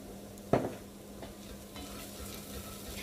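Onions frying in a pan for chili con carne: a steady soft sizzle close by, with a sharp clack of a utensil against the pan early on, followed by light stirring.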